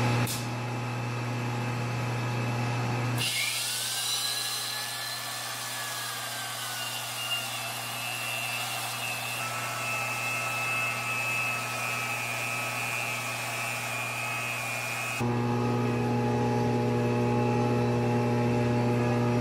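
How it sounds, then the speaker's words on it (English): Polisher running on Triumph crankshaft journals after grinding in a machine shop, a steady loud motor whine and drone that shifts in tone as the polisher engages the journal, continuous throughout. "we are now going to hit them with the polisher right after"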